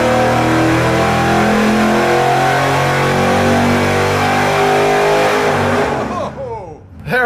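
Supercharged engine revving hard on a dyno, a loud sustained roar with the serpentine belt slipping, then dropping away sharply near the end as the pitch falls off.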